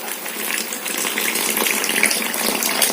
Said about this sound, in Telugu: చూడండి ఫ్రెండ్స్ ఇందులో అయితే వాటర్ అయితే పోస్తున్నాను.